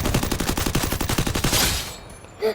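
Rapid automatic gunfire from the Free Fire video game rattles in a fast, even burst of about a dozen loud shots, then cuts off into near silence with a brief sound at the end.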